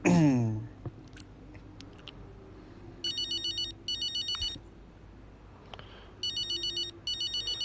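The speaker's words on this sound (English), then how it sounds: "Let's enter this phone call, see what David wants." A phone rings in the F1 25 racing game, chirping in two short bursts, then again in two more bursts after a pause, over a quiet background with an early low musical tone.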